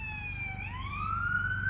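An ambulance siren passing by outdoors, a clear sweeping wail that dips and then climbs, moderately close over low road rumble, with no talk.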